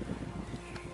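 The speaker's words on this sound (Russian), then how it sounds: "ветер аж меня сносит" Strong wind gusting across a ploughed field, buffeting the microphone with a loud, continuous low roar for about a second, no voices.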